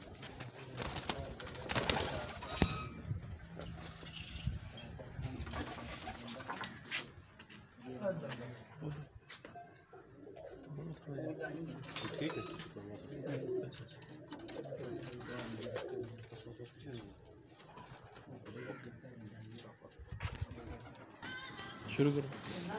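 Pigeons of a high-level racing breed from a breeder's loft coo in low, repeated phrases through the clip, with someone talking over them most of the time.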